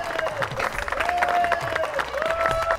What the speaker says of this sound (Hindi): जरा जोरदार तालियां बजाएं राजू और राजन के लिए।